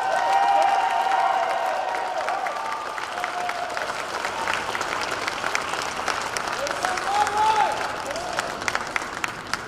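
An audience at a college air rifle championship claps steadily for the winners, with a dense wash of applause that fades slightly, while a voice speaks faintly over it.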